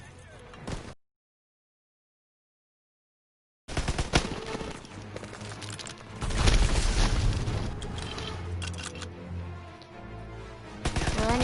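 Call of Duty: WWII combat with a grenade explosion and gunfire: brief noise, a few seconds of dead silence, then loud rolling booms and rapid close-range shots that continue to the end.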